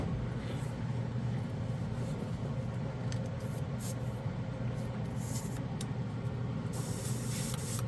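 Chrome model paint hissing steadily from a spray nozzle, a loud, continuous airy spray that holds for several seconds without a break, close to the listener and alone.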